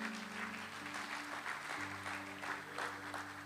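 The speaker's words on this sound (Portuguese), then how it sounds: "Aplauda o Senhor." Church congregation applauding during a Sunday service, a fairly quiet wash of clapping over low sustained keyboard or organ tones, no speech over it.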